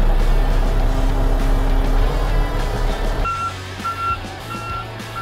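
A truck backs up to hitch onto a K-Tec ADT scraper, its steady backup alarm beeping at an even pace over a loud diesel engine rumble that drops off partway through while the beeping continues.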